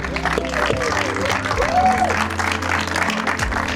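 Employees at a company open house in Las Vegas receive loud, sustained audience applause mixed with cheering and crowd murmur, while a voice carries on over the clapping.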